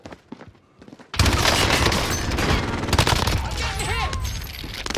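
Enemy sentry turret in Warzone opening up with loud, dense automatic fire that bursts in after a second of quieter sounds, keeping up a steady hammering barrage with faint voices under it.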